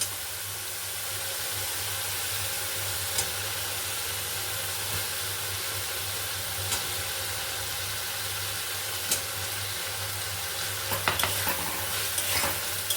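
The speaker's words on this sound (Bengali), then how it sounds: "মশলা থেকে তেলটা ছেড়ে এসেছে, এবার আমি দিয়ে দেবো ভেজে রাখা আলুগুলো।" Fried potatoes tipped into oily spice masala with tomato paste keep up a steady, close sizzling hiss with a low hum underneath, a few scattered clicks and a brief burst of scraping and spattering near the end.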